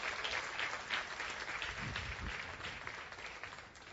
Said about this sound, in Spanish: Ese aplauso es para Dios, iglesia.